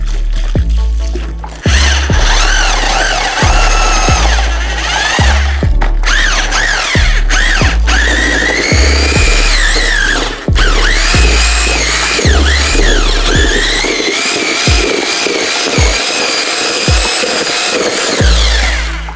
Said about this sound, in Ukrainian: Давайте спробуємо перфоратором.